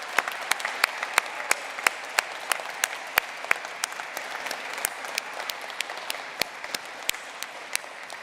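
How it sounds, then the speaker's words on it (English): A crowd at a graduate commencement ceremony applauds steadily, with scattered individual claps standing out over a dense, even patter. "please join me in a round of applause for these very important people in your lives"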